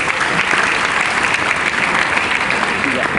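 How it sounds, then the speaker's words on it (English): Audience applause at an evening business event in Lagos, Nigeria, steady and full throughout, a dense crowd clapping close by with no talk over it. "Can we have a round of applause for her?"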